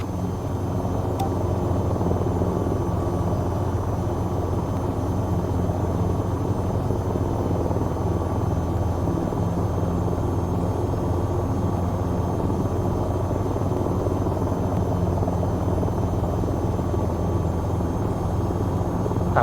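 An AH-6 Little Bird helicopter flying in the VTOL VR game, a steady loud rotor and engine drone holding without a break for about twenty seconds, with no talk.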